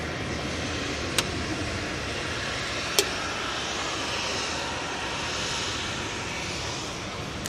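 A Ryanair Boeing 737-800 lined up for departure from Manchester Airport to Dublin during Storm Floris, its jet engines a steady broad roar with wind noise, broken by two sharp brief clicks.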